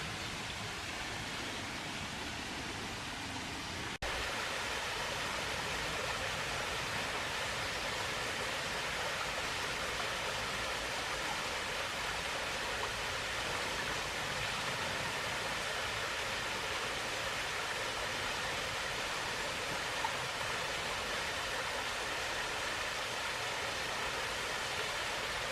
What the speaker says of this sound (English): This is a gorgeous long cascade with an upper falls up there too.